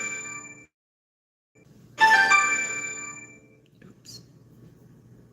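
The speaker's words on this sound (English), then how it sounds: "Phone calls." A phone rings with an incoming call, a bright chiming tone that starts abruptly and sounds for a couple of seconds before fading, with a person talking around it.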